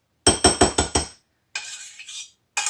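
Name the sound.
oatmeal being put into a bowl, dish clinking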